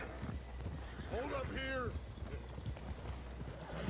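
Horse hooves clip-clopping in a cowboy video game, a steady trotting patter under wind noise, with someone speaking briefly over it.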